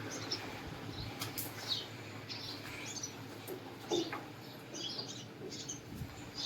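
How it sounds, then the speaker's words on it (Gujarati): A common myna calls around a rural home where a cow is kept, giving faint, scattered short chirps and whistles over a low, steady background hum. "કાબર"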